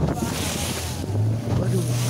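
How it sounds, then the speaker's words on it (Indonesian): Big ocean waves at Pangandaran beach in Indonesia roar as a continuous loud wash of surf, with heavy wind buffeting the microphone throughout. "Oh, kok ombaknya gede?"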